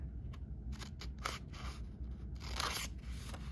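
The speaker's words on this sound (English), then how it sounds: "So now I will want to cut here on the solid line" Scissors snipping along a solid line while cutting out a paper brain-hat template, a run of crisp close cuts in quick succession with short pauses between strokes.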